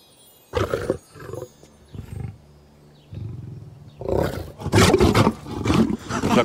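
A lion roars repeatedly in a palace hall, an animal presented as a gift to the sultan; the deep roars come in bursts, growing louder and denser toward the end.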